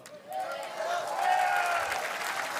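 An audience applauds Don Jr. in steady, moderately loud clapping that swells after a quiet start, with crowd voices and cheering mixed into the sustained wash.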